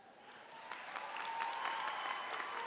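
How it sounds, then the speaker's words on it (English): A commencement audience at a high school graduation ceremony claps, the applause somewhat distant and building slightly in loudness over a few seconds, with a faint steady hum behind it. "You deserve applause"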